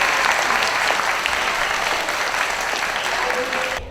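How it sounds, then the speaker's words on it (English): Audience at a school All Star award ceremony claps and cheers in a steady, dense wash of applause that holds at full level for about four seconds. "So let's give Nereus a cheer"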